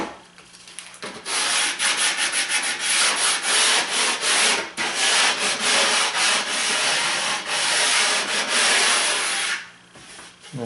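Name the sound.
sanding wood edge with sandpaper on a sanding block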